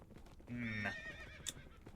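A horse in Minecraft whinnies loudly with a rising, wavering cry, followed by a brief sharp clop, over faint background noise.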